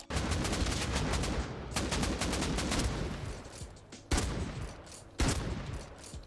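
Dense bursts of automatic gunfire from the Rust video game played on PS5, loud and nearly continuous with brief gaps, then two sharp single shots near the end.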